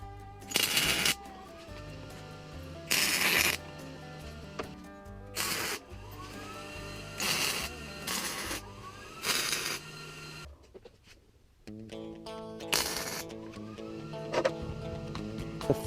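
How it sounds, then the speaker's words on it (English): Tack welding on a level frame for a welding table built from scrap metal: a series of short, loud crackling bursts of about a second each, separated by quieter pauses, close up and with no talking. "So now we're level, so I'll go ahead and tack this up"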